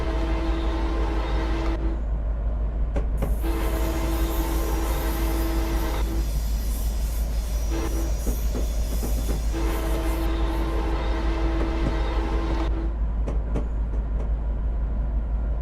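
A Pacific Surfliner train's horn sounds at a crossing in Train Simulator Classic, loud sustained blasts in a long-long-short-long pattern over steady engine rumble and rail noise, with no talking.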